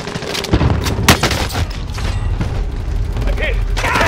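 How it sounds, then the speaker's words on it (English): Gunfire and a sharp frag grenade blast crack through a Call of Duty Modern Warfare plunder match in Verdansk, with dense, busy battle noise running throughout and voices talking over it. "Throwing frag."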